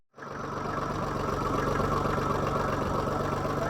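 A Daihatsu diesel engine fitted into a Maruti van, with Maruti's gearbox, idles loud and rough with heavy vibration. It starts abruptly and holds a steady, clattering, rhythmic drone throughout, with no one talking.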